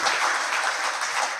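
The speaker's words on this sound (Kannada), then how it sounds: "ಮೊದಲೇ ಚಪ್ಪಾಳೆ ತಟ್ಟಬೇಡ್ರಿ" Audience clapping during a festive sung Mass marking a church's 80th anniversary celebration; a steady, dense wash of many hands fills the space continuously without pause.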